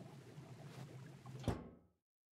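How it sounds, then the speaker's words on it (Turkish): A door opens or closes in a children's TV listening game: one brief, faint knock-like thud over quiet room tone, then the sound fades out. "Kapı sesiydi."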